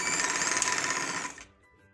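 An electric sewing machine runs at speed stitching elastic onto capri trousers, a loud continuous buzzing whine that stops abruptly near the end, leaving faint quiet.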